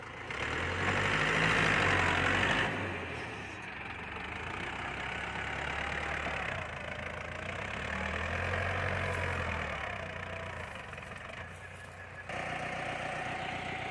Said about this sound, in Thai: เครื่องยนต์สี่สูบนะครับ